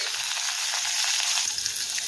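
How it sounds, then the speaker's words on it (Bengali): Loud, continuous hiss and crackle of onion frying in hot oil, close up and unbroken from start to finish. "পেঁয়াজ হালকা করে ভেজে নেব।"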